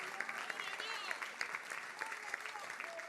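A church congregation claps together in praise, a dense wash of many hands with scattered sharper slaps, steady and fairly close throughout.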